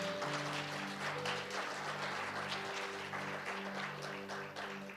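Church congregation applauding loudly and steadily for about five seconds during a worship service, a dense wash of clapping over sustained organ or keyboard tones.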